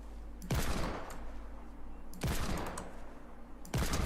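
Hand cannon gunfire in a first-person shooter video game: three loud, booming single shots spaced over a couple of seconds, each with a sharp crack and rumbling tail, over steady game ambience.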